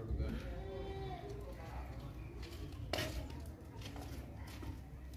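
Goats and bucks bleating at a livestock market where animals are sold for milk and meat, with repeated calls over a steady crowd murmur and people talking nearby.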